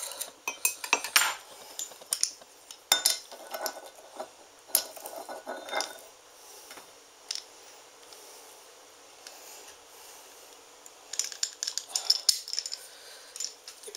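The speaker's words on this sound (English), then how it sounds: "Crush your garlic cloves into" Garlic cloves crushed into oil while making garlic parmesan croutons: a run of close metallic clicks and clinks from kitchen utensils, bunched into bursts with quieter gaps between, and no talking.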